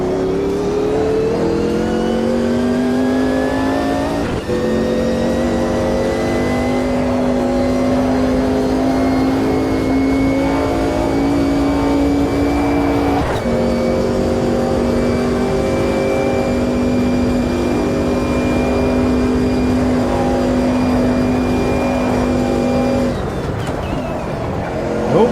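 A race car engine in the Automobilista 2 racing sim holds a loud, steady high-revving howl, with upshifts dropping the pitch near the start and middle before it climbs again, and no talking over it.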